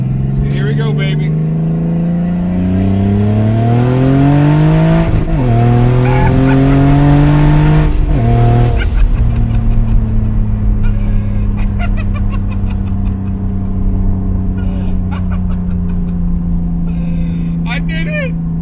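Turbocharged BMW E36 accelerating hard on its first drive, engine note climbing through gears with a shift break, then settling into a steady cruise drone, loud and close throughout.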